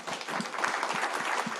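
Applause from an audience at a youth leadership summit, many people clapping in a steady, even patter at moderate volume.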